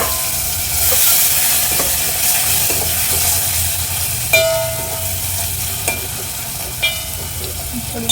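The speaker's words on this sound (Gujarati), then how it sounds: "લીમડાને સાતળવા દે, ટમેટાને સાતળવા દેવાનું." Curry leaves and chopped tomato sauté in a hot pan for Gujarati tuvar dal, giving a steady loud sizzle with a few faint clinks of a stirring spoon.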